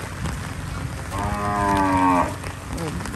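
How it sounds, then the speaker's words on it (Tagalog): A single long, low bellowing moo from a water buffalo nearby, lasting about a second over outdoor background noise. "Ayan, kalabaw ulit."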